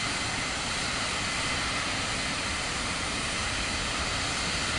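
A Boom jet airliner sits on the runway in Microsoft Flight Simulator 2024, its engines giving a steady, even roar with a broad hiss that neither swells nor fades.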